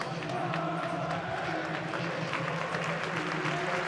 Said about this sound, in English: The crowd singing the name of Kevin De Bruyne.